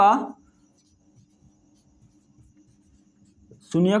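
Soft, faint scratching of writing on a board during a Class 10 maths lesson on polynomials, steady over several seconds between short bursts of a man's speech at the start and end.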